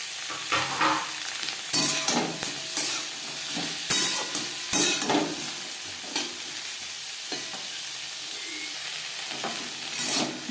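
Drumsticks and carrots tossed with other vegetables in a hot pan, with a continuous sizzle and repeated bursts of scraping and clattering from the spatula, close and fairly loud.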